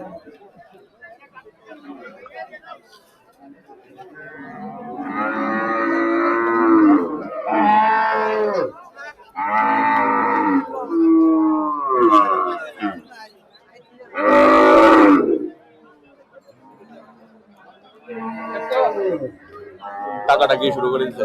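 Cattle for sale at a Qurbani cattle market moo loudly several times, deep drawn-out calls spaced a few seconds apart, with people chatting nearby.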